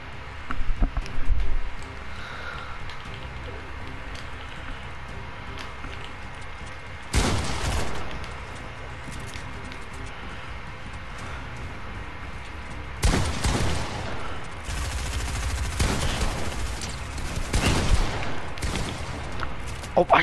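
Gunfire in the video game Fortnite comes as several loud bursts of rapid shots, one short volley then a longer stretch of firing later, over a low game background.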